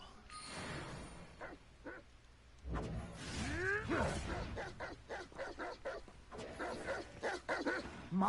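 Within the Hogwarts Legacy video game, a dog gives a series of sharp, separate barks and yips. Sweeping whooshes of spell effects mix in, and the barks get louder toward the end.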